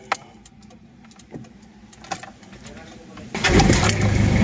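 A Toyota Revo GL manual diesel pickup cranks and fires up after a few faint clicks and thumps, then settles into a loud, close, rattling idle that fills the rest of the moment. Birds are faintly audible in the background before the start.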